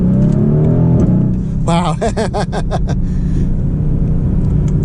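A Mercedes GLC 63 AMG in Sport Plus mode pulls away hard from inside the cabin, its engine rising in a loud rumbling surge with a few quick pulses. A person exclaims briefly over it.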